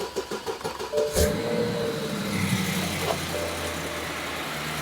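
A 2002–2008 BMW 750i engine with a replaced coolant reservoir cranks with rapid pulses, catches with a loud burst, then settles into a steady, smooth idle up close.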